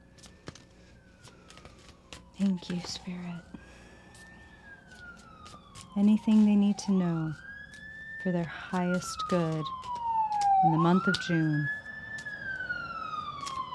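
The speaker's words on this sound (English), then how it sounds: "Pardon the sirens." A fire truck siren wails in long rising and falling sweeps, moderately distant, while a person speaks calmly over it in the foreground.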